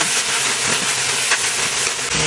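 Steady, loud hiss of vegetables steaming in a pot for vegetable lumpia, a continuous close rushing sound with no talking.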